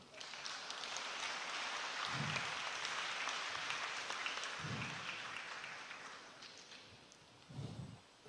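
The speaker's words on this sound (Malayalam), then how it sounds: "അതൊരു ചതഞ്ഞ കയ്യടിയായിരുന്നു." Weak, scattered applause from an audience at a church memorial feast, a thin steady patter of claps with a few heavier low thumps, no voices over it.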